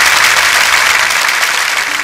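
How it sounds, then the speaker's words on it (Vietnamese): Loud, sustained applause from a theatre audience at a military chèo troupe performance, greeting the female singer Thùy Linh with a thick, unbroken roar of clapping. "Xin hãy dành cho nữ nghệ sĩ ưu tú Thùy Linh một tràng pháo tay ạ"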